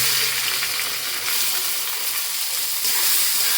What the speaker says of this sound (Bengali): চালটাকে এখন একটু সুন্দর করে ভেজে নেবো।